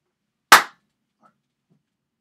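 A single sharp hand clap rings out close and loud, decaying quickly into near silence in what sounds like a lecture room.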